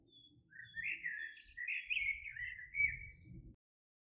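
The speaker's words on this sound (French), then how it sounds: "Vous entendez les oiseaux?" Birds chirp and tweet in quick, bright bursts, fairly close, with a faint low murmur of background noise beneath, then sudden silence at the end.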